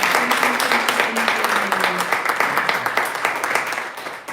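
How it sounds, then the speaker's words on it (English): An audience at a poetry reading applauds steadily in a continuous patter of clapping that slowly fades, with a voice speaking briefly over it. "One more round of applause."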